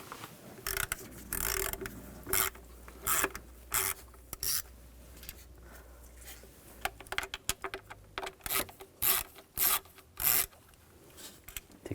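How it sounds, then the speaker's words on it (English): Ratcheting and rubbing mechanical clicks from a T25 socket unscrewing the two MAP sensor screws on a 2007-2013 BMW X5 3.0L inline-six, in short irregular bursts at close range with no talking. "Take these two screws out."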